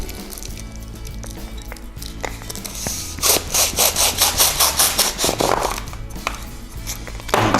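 A hand pump inflates a mini balloon inside a Clearz balloon gift, first as soft rubbing, then a burst of quick, evenly spaced pump strokes in the middle, close and fairly loud.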